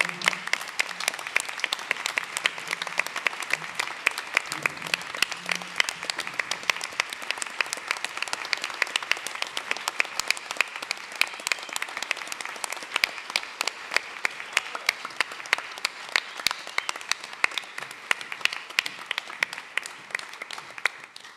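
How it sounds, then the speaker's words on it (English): Sustained audience applause fills the hall at Wikimania 2013, dense steady clapping from a large crowd lasting over twenty seconds with no speech. "And so I'd like to ask you to join with me in a round of applause for Kat for her service."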